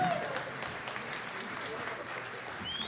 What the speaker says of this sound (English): Give another round of applause for Eric on piano and Aiden on flugelhorn.